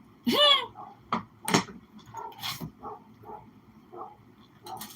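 Dogs bark and yip at a neighbour's house, a few sharp barks early then softer whimpering yaps, with a voice speaking nearby.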